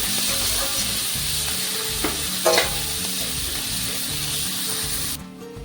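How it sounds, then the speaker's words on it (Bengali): Onions fry in oil for a Bengali katla fish kalia, giving a dense, loud, steady sizzle with a brief stirring scrape midway before it suddenly cuts off. "এবার পেঁয়াজটাকে আমি লাল লাল করে ভেজে নেব"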